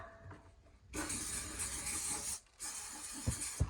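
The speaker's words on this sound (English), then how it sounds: "But first of all, the silicone spray" A sustained aerosol hiss of a silicone spray can during toilet plumbing work, two bursts separated by a brief pause, fairly close, with small knocks near the end.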